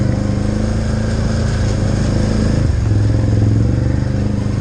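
Can-Am Outlander ATV engine running in work mode while crawling over rocks, a loud close steady drone with a slight throttle dip and change in pitch partway through.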